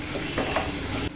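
Cassava being stirred in a pan on the stove, a brief soft scraping and sizzling close by with a couple of light stirring strokes, alone without talk.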